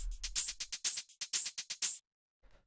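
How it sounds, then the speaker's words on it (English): Crisp hi-hats from a melodic techno track ticking in a quick, steady pattern of bright, sharp hits for two seconds, then stopping, followed by one faint, soft hit. "So the next thing that we have here is these hi-hats,"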